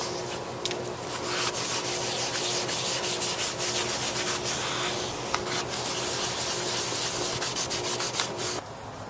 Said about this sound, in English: We're going to do a wet sand here.